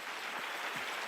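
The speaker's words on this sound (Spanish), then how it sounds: "Denle un aplauso a la fuente" Broad, steady applause from a church congregation at a Spanish-language evangelical service, heard fairly distant and hissy as a continuous wash of clapping throughout.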